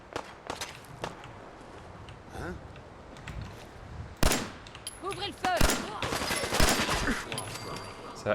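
Gunfire in Fallout 4 rings out as a run of sharp single shots and bursts, some close and loud, others lighter, with footsteps and faint game effects between and a voice speaking at times.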